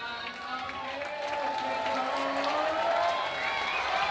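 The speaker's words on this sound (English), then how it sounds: "And the crowd goes crazy." A crowd cheers and claps at an outdoor climbing competition, a broad swelling roar that builds over a few seconds, with a voice talking over it.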